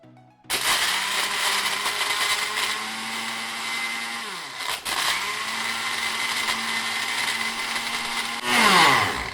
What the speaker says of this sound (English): first test, Mainstay blender with about 4 cups of ice. We're gonna put it on pulse